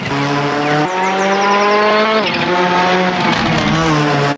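A toy race car plays a loud recorded engine whine with shifting pitch and squealing tires, continuous and close, ending with a sudden cutoff.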